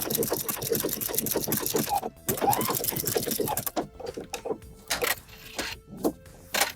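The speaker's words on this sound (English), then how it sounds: "To sew these together, I'm going to be using my stretch stitch" A sewing machine runs a stretch stitch through three layers of fabric, giving a fast, close mechanical rattle in bursts, with brief pauses between runs and short stops near the end.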